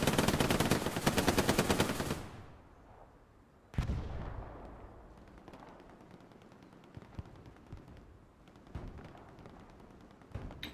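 Machine gun fire in the Hell Let Loose shooter, a loud rapid close burst for about two seconds, then scattered distant single shots and short bursts echoing over a low battlefield rumble.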